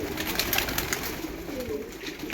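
A pigeon being released gives low coos and quick papery flutters nearby, quiet and brief with no voices.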